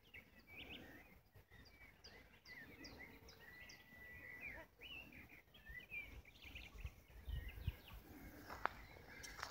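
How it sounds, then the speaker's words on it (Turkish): Birds, including a nightingale, sing outdoors in nature at Güverek Kaleçayı, with faint, repeated chirps and warbles at a distance over a soft background hum. "Her taraftan kuş sesi geliyor, bülbül sesi geliyor."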